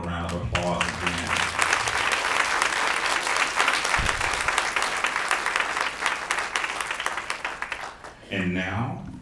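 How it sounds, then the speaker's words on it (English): An audience at a Black History program claps loudly and steadily for several seconds in a hall, the dense applause thinning toward the end as a voice starts to speak. "let's give them all a round of applause again"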